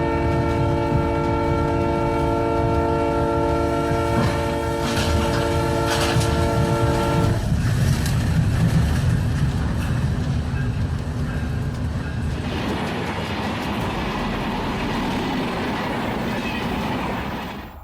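A train horn sounds in a steady blast while a train rolls past, wheels rumbling and clattering loudly nearby, the roar continuing after the horn stops.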